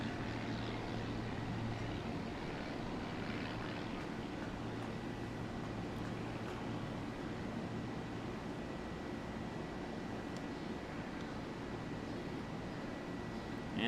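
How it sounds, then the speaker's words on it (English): A distant fixed-wing airplane passes over a baseball field during a tournament game, a steady low broadband drone lasting throughout, moderately quiet with no talk over it. "So we have an airplane coming over the field."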